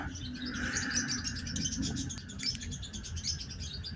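A small bird chirps in quick, high-pitched bursts amid handling rustles as it is fitted with a leg ring, close and moderately quiet.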